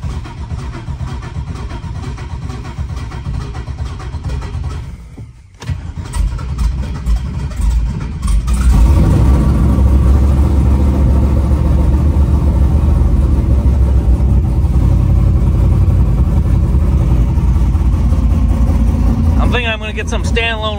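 A cammed Cadillac engine running on E85 fires up from a cold start in about 30-degree weather after sitting for weeks, going from a rough lumpy idle into a loud, steady, choppy rumble up close, with speech over it.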